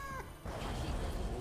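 A cat meows in the Elder Scrolls Legends card game, a brief in-game animal cry that rises over a steady background wash of game music and ambience.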